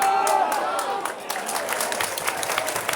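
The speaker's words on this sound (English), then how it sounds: "You can hear the applause." Sheffield United fans applaud inside the stadium during the match against Millwall, a broad wash of clapping spread across the ground, with a commentator's voice talking over it throughout.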